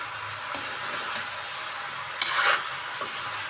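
Lechon pieces sauté in a pan for sinigang, a soft sizzle running underneath a few sharp scrapes and clinks of a utensil stirring against the pan.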